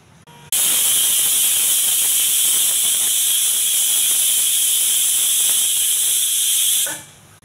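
A stovetop pressure cooker of peas and cowpeas lets out one long, loud, piercing steam whistle that starts abruptly, holds steady for about six seconds, then tapers off.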